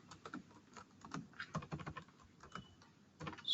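Quiet, steady typing on a computer keyboard, with irregular bursts of soft, close clicks and brief pauses, and no talk.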